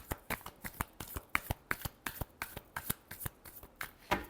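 Tarot cards are shuffled by hand in a quick, steady run of crisp riffling slaps, close and clear with no talking, about a dozen sharp bursts in just over four seconds.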